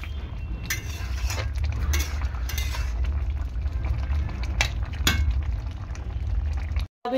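A spoon stirring garam masala into a bubbling soybean curry in a pot, with a steady simmering hiss and repeated metallic clinks and scrapes against the pot, close and without talk.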